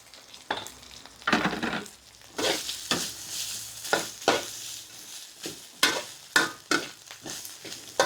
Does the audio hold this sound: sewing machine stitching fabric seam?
no